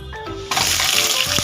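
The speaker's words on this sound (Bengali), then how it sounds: "আলুগুলো ভেজে নেব।" Potato pieces dropped into hot mustard oil in a kadai, a sudden loud hissing sizzle that stays broad and steady after a brief quieter lead-in.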